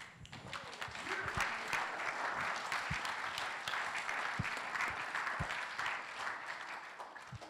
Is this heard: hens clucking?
no